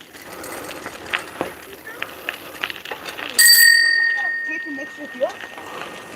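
A bicycle bell gives one clear, bright ring partway through a bike ride and its tone hangs on for about a second. Before it there are scattered voice sounds and rolling noise.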